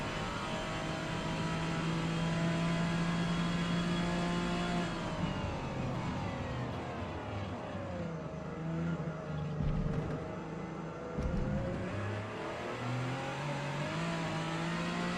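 Nissan VQ V6 engine revving in Gran Turismo 7, a steady loud drone with rising and falling pitch as the revs climb, drop and swell again, with no talk over it.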